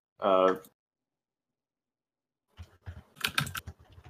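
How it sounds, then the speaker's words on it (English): Computer keyboard keys clatter in a quick irregular burst while someone types a search, close and moderately loud, following a brief spoken word and a pause of silence. "You hear the clicking of the keyboard?"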